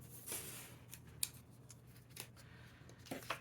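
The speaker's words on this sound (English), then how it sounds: "Go ahead and cut this off right here." Scissors snipping through paper while setting up a December budget planner dashboard, a few quiet close cuts spread over a soft, low background hum.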